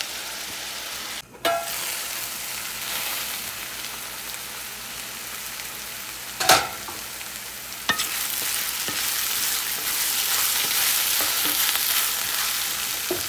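Vegetables frying steadily in a pan with a continuous sizzle, broken by a few sharp clatters of stirring and a brief louder scrape partway through, no voices.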